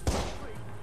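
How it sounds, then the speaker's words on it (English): Gunfire in the Watch Dogs video game: a single sharp shot or thump at the start, then a short decaying tail as game sounds continue. "Oh, he's shooting at me."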